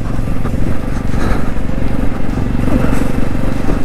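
A 2024 Jawa 350 motorcycle accelerates close by, its engine giving a loud, steady, throbbing drone that stays strong throughout.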